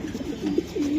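A racing pigeon held for sale among other club racers gives low, rolling coos, several in a row and close by, with no voices over them.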